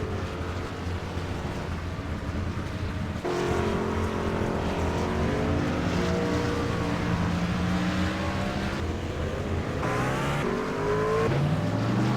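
Race cars in the Cyber Racing League All Star Clash video game pull out of pit road one after another, engines revving and rising in pitch as they accelerate, loud and continuous with overlapping motor tones.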